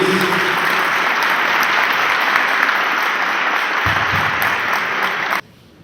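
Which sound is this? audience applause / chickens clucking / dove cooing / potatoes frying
audience applause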